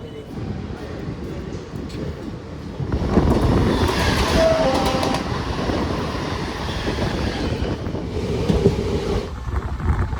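A passenger train runs from Bardhaman Junction toward Durgapur, its steady rumble and wheel clatter filling the carriage, growing louder partway through, with wind buffeting and a brief high squeal near the middle.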